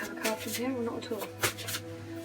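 Cards riffle and slap in quick shuffles, close up, while a person talks over them.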